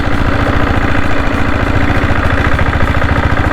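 A diesel Bullet motorcycle with a 7.5 HP engine running: a loud, close, steady rapid thumping with a continuous rumble and no gaps, and no voices.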